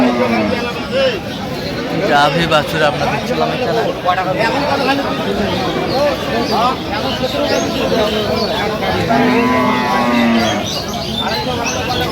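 Dairy cows and calves moo repeatedly amid a busy crowd of people talking at Aftabganj cattle market in Dinajpur, the lowing rising over the chatter at intervals.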